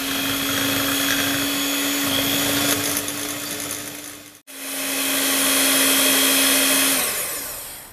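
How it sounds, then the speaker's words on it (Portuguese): Electric hand mixer beating egg yolks with sugar for a doce de leite rocambole, a loud steady whirring drone that cuts off briefly midway, then resumes before slowing toward the end, with no voices. "utilizando a nossa batedeira, vamos bater esses dois ingredientes"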